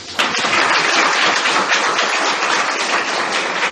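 An audience at a school event in Bahattanagar applauds, a dense and loud burst of many hands clapping that holds steady for several seconds before stopping abruptly.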